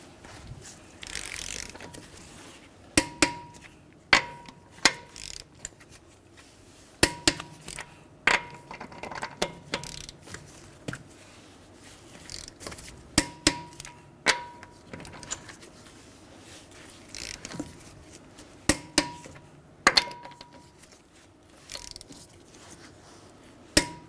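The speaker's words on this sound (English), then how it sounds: "we're going to torque our lug nuts to 94 foot-pounds in a crisscross pattern." A torque wrench tightens lug nuts on a 2011-2017 Honda Odyssey wheel, giving repeated sharp ratcheting clicks in small clusters spread across the clip, close and distinct over faint background noise.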